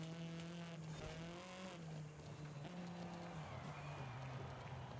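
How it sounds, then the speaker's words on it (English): Steady in-game engine drone from a 3-liter V6 twin-turbo swapped into a 1985 Toyota Trueno, holding a fairly constant pitch with slight rises and dips, loud and continuous throughout, no talk over it. "this 3-liter V6 TT sure sounds really nice in this car"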